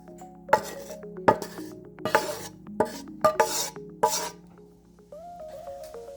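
Parched flour mixture is whisked in a bowl for Guyanese halwa, producing sharp, irregular clinks and scrapes of the whisk against the bowl, close and fairly loud, with a brief tonal kitchen sound near the end.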